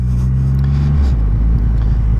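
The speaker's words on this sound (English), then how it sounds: "Hearing that exhaust crackle" Triumph Rocket motorcycle on a coastal tourist drive, its exhaust giving a loud, steady low rumble close by with slight pitch shifts, no distinct crackle pops standing out.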